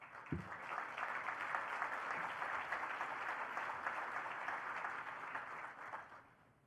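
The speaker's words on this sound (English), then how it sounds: "I had to wait a minute for that applause" Sustained applause from an audience at an assembly after mention of ending New Jersey's nuclear power moratorium, a dense steady clatter of many hands that fades out near the end.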